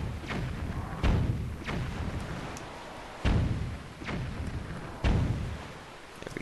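Bombs fired from a ship's cannon burst against rocks in The Legend of Zelda: The Wind Waker, giving three heavy booming thuds a couple of seconds apart, each with a rumbling tail, over a steady game background.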